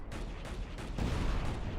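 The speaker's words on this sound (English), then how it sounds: "And I hear gunfire" Gunfire in the video game Battlefield Yugoslavia, a dense, continuous rattle of shots with heavier booms that swell louder in the second half, alone with no talk.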